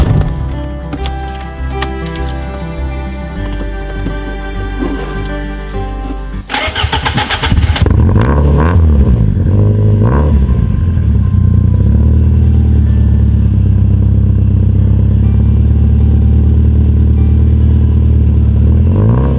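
A 1990 Lancia Delta Integrale HF 16-valve starts up with a burst of cranking and catches, then settles into a loud, steady close-up idle with a deep, even rumble. Before the start, a music-like harmonic bed is heard.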